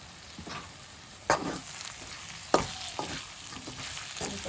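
Spices being stirred into eggplant frying in a pan for vankaya fry, a steady sizzle with several sharp scrapes of the spoon against the pan, close and moderately loud, no talk.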